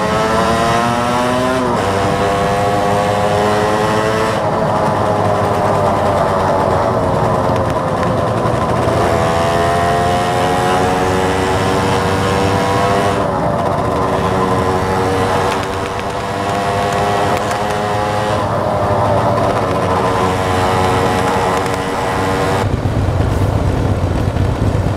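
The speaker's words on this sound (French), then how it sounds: "Ça vibre pour ces motos." Motorcycle engines revving loud and close, rising and falling in repeated long pulls with strong buzzing tones throughout, no speech.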